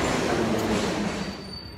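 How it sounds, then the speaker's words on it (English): An old Soviet-era subway train running in the Kiev metro, producing a loud, broadband rumble of wheels and carriage noise that fades slightly toward the end, with no talk. "Old style subway is awesome."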